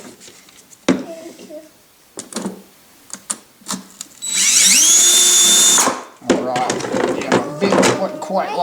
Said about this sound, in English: I will finish it up with that screwdriver Eli has.